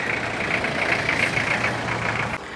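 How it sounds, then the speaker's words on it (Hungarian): A small car approaches in a seaside village near Phuket, Thailand, its engine running with a steady idling hum and a rough mid-pitched buzz, close and continuous. "Milyen jó kis autó jön itt."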